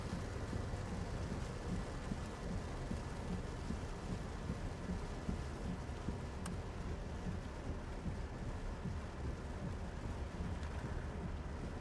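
Heavy rainstorm on the I-270 highway heading toward Gaithersburg, heard from inside a moving vehicle with water ponding across the lane: a loud, steady wash of rain and road spray with a low rumble, continuous throughout and without talk.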